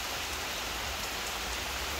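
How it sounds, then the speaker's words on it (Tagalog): Steady rain falls on a bahay kubo hut as a dense, even hiss of drops with no gaps, fairly quiet and without any voices. "Ang sarap ng ulan dito."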